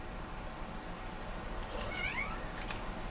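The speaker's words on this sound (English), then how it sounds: "Your meow's so tiny." A small cat gives a couple of faint, high meows, close by, over a steady background hiss.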